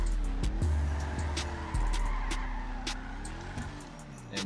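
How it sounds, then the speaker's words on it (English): A lifted custom car in the video game GTA V spins donuts, with repeated tire squeals and skids over a running engine that revs up and down, with no speech over it. "I'm sitting up here doing donuts"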